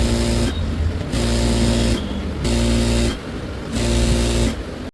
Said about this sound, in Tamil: அத அப்படியே நீங்க இந்த மாரி மடிச்சு ஸ்டிச் பண்ணிக்கங்க.